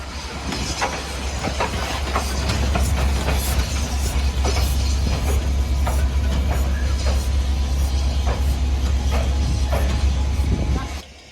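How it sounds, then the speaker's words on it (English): Steel wheels of a narrow-gauge demonstration train clatter over rail joints inside a large train-building works, giving a steady run of sharp clicks over a loud low rumble, with faint voices in the background. "the clickety-click of wheels on steel rails"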